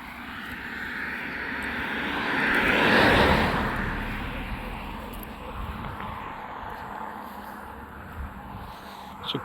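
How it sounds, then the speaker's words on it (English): A car drives past outdoors on a walk among pine trees, its broad road roar swelling to a peak early on, then easing into a steady background rumble. "Oh, car."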